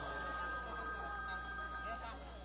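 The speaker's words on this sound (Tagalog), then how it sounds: "yung telepono mo tumatawag na nagri-ring" A telephone ringing from inside a bag, thin repeated electronic tones held steady over a background hum, with people talking faintly around it.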